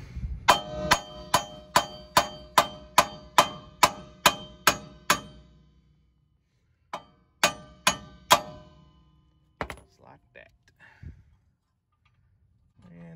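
Sharp metallic strikes from a 5-pound mini sledgehammer tapping out a broken wheel stud on a 2004 Toyota Sienna, about a dozen in a steady rhythm, then a pause and a few more blows, ending with lighter clinks and rattles.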